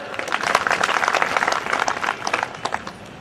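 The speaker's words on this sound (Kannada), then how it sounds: "ದೇವರಾಗಿ ಚಪ್ಪಾಳೆ ತಟ್ರಿ." An audience at a Kannada religious discourse breaks into brisk, dense applause, many hands clapping together for a few seconds, fairly close and loud, then thinning toward the end.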